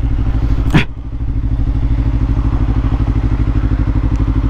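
A Kawasaki EX-500 motorcycle with its emissions hardware removed and block-off plates fitted idles steadily up close, its rapid, even engine pulse continuous throughout, broken only by a brief clatter early on.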